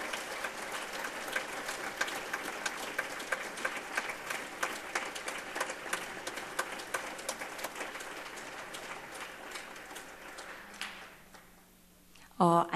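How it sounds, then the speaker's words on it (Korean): A church congregation claps to welcome missionary Joo Mi-ran, reporting from her work among Canada's Indigenous peoples, with steady, moderately loud applause that fades out near the end, followed by a brief louder knock or bump. "우리 격려하면서 박수 한번 해주세요."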